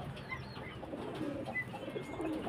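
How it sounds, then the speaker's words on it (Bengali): Pigeons cooing at a pigeon market in Beldanga, soft low coos repeating over a faint background murmur, fairly quiet and with no clear talk. "পায়রার কোয়ালিটি দেখুন, খুব সুন্দর কোয়ালিটি পায়রা"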